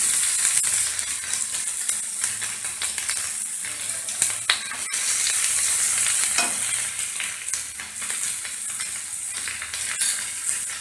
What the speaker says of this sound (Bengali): পেঁয়াজগুলো ফ্রাই হয়ে গেছে, আদা রসুনগুলো